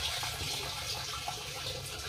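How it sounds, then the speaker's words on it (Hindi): Water gushes into a tank from a running pump motor, a steady close rushing and splashing that continues unbroken with no talking. "देखिए यहाँ में टंकी में पानी भी भर रहा है"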